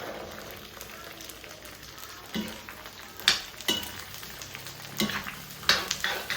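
Garlic frying in a pan with stirring, a soft steady sizzle broken by several sharper scrapes and clinks of a utensil against the pan.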